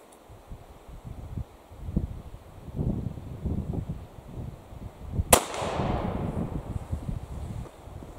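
A single sharp report from a Remington Rolling Block No. 2 rifle cracks out near the middle, loud and close. A decaying rumble follows it, and steady outdoor wind noise runs underneath.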